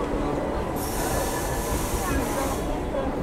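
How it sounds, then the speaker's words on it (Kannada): Wodeyar Express train passing on the adjacent track near Maddur on the Bengaluru–Mysuru line, a steady loud rumble and rush of wheels with a high hiss, continuous throughout. "ಒಡೆಯರ್ ಎಕ್ಸ್ಪ್ರೆಸ್ ಇರ್ಬೇಕನ್ಸುತ್ತೆ, ಆ ಕಡೆ ಕ್ರಾಸ್ ಆಗಿದೆ."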